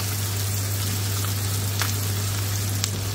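Fresh green chillies fry in a dal tadka with a loud, even sizzle. A couple of sharp spits break through the constant hiss, and no voices are heard.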